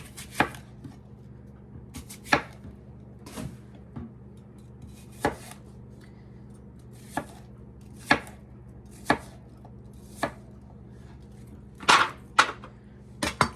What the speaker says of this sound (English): let's get this apple and I'm gonna just cut it and drop it right in my pan